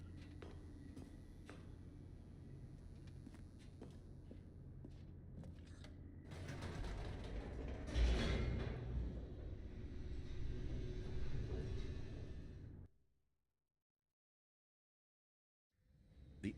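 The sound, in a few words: elevator descending, from video game The Stanley Parable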